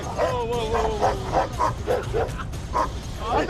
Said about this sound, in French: À ce moment précis, ce chien semblait gigantesque.